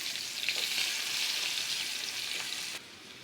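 Chopped onions fry in hot oil, a bright, steady sizzle close by with a few faint stirring scrapes, dropping suddenly quieter near the end.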